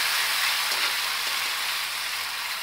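Tomatoes frying in a pan are stirred while cooking methi pulao, producing a steady, close, even sizzle that continues without a break and without any voices.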